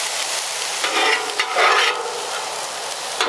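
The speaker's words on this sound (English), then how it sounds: "it'll just stay hot while we cook the tortillas" Tortillas sizzle on a Blackstone flattop griddle next to cooked beef steak, a close, steady hiss with a few brief scraping swells, no talking.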